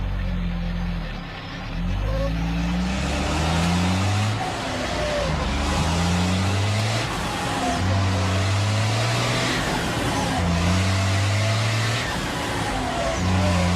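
A car driven by a 14-year-old accelerates and shifts through gears in a steady loud run, engine pitch climbing and dropping in repeated steps as it changes gear, with road and wind noise throughout.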